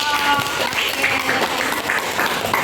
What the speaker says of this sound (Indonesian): Tepuk tangan dulu buat Syafuro